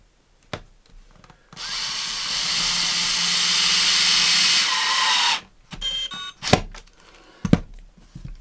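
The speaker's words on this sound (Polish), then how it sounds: "Blokuję suwmiarkę, ustawiam i drugim wkrętem przykręcam nasz uchwyt." A power screwdriver drives a screw to fasten a drawer handle, whirring loudly for about four seconds, then clicks and knocks as the tool stops and parts are handled.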